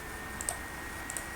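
Two light computer mouse clicks about two-thirds of a second apart come while working in CATIA V5 shaft-design software. They are quiet and crisp against a steady hiss, and no one talks.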